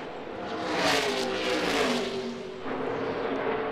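NASCAR stock cars at the Auto Club 400 finish, a loud rushing roar of engines swelling as the field storms past, then easing to a steady drone.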